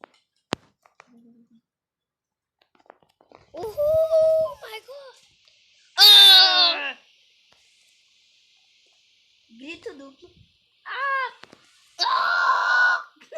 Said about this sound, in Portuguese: Assim que se faz um grito duplo